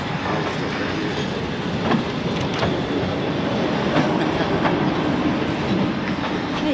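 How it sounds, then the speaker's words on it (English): A train rumbles past with steady rolling noise and faint rhythmic clacks, loud and continuous throughout. "The world's oldest electric train."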